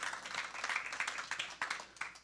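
Church congregation applauding during a worship service, a steady wash of clapping from many hands, moderately loud and filling the room with no voices over it.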